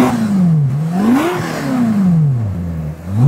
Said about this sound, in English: boy, does this Ferrari V8 sound good